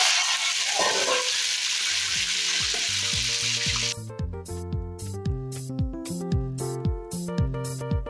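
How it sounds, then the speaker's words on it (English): Gizzard frying in hot oil gives a loud, steady, dense sizzle for about four seconds, then music takes over and the frying fades beneath it. "I'm going to fry my gizzard"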